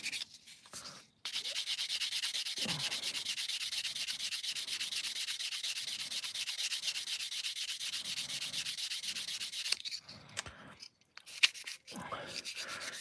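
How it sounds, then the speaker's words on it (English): Plastic part of an Airfix Concorde scale model sanded in long continuous rubbing strokes for about nine seconds, a steady close scratchy hiss that stops briefly near the end before a few lighter passes. "A little bit of a trim there. And then give it a sand."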